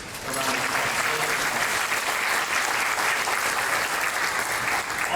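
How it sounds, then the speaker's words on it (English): An audience at a chamber of commerce annual awards dinner claps in a thick, even, sustained round of applause that holds steady throughout. "Would you please give W.C. Bradley a round of applause?"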